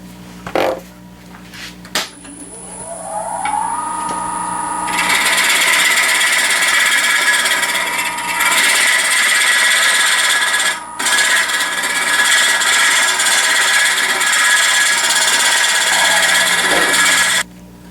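Wood lathe spinning up and hollowing out a wooden form, a steady close motor whine with rough scraping of the tool in the wood running continuously for most of the span after a few bumps at the start.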